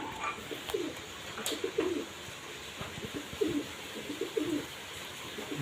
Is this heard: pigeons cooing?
yes